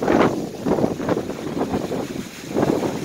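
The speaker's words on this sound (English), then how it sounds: "Whenever you hear the wind, it's trying to do something." Strong, gusty wind during a tornado warning, buffeting loudly in surging waves of roaring rush and microphone rumble, with no voices over it.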